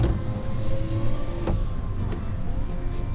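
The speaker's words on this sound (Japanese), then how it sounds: "そして窓開きチェックなんですけれども" Power window motor on a Honda N-BOX Custom Turbo kei car whirring as the glass lowers, a steady electric drone close by with a faint click partway through and no talking.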